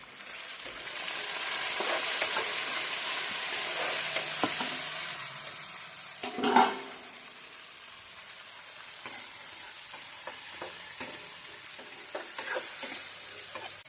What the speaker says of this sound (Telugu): టమోటాలు కూడా వేసుకుంటున్నాం